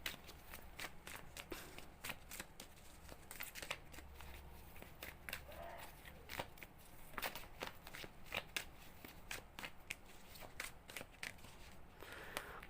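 Tarot cards are shuffled in repeated quick riffling bursts, crisp papery flicks coming in irregular clusters close to the listener over a quiet background.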